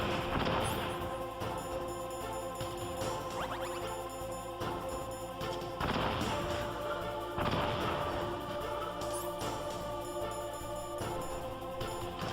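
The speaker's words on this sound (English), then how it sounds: "I think now it's the stun grenades." Stun grenades going off in Metal Gear Solid on PS1, a run of loud booming bursts and crashes repeating every few seconds over dense game audio.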